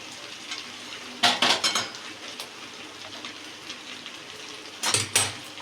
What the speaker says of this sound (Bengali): আবার একটু ঘি দিলাম, এবার আবার এঁচোড়টা দিতে থাকছি।